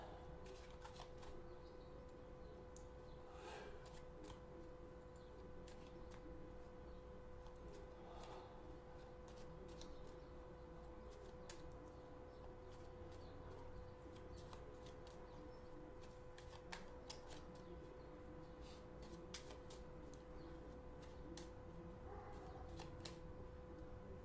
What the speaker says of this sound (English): I'm gonna shuffle my cards as well